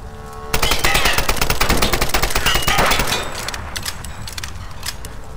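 Rapid rifle fire in a Lara Croft video game, a loud, fast stream of close shots for a few seconds before it gives way to quieter scattered impacts and rattling.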